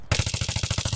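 Automatic gunfire in the video game Battlefield 3: a rapid, steady string of loud, close shots at about a dozen rounds per second, running without a break after a brief silent start.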